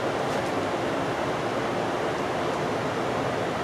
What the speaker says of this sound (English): It is a very tall waterfall.